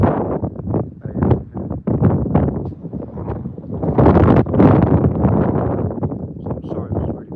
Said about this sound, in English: I'm sorry, it was really windy.